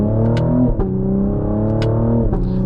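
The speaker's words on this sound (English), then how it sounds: "just have a listen to those exhaust pops from this 10-speed in manual mode" A 2024 Cadillac CT5-V's twin-turbo V6 drones at steady revs through its 10-speed automatic in manual mode, with a few sharp exhaust pops and shifts breaking the loud, continuous engine note inside the cabin.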